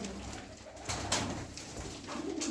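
Tumbler pigeons coo softly inside a coop, low throaty calls repeating at close range over a quiet background.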